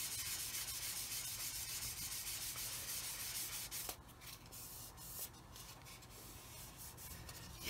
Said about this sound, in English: I'm just going to very lightly sand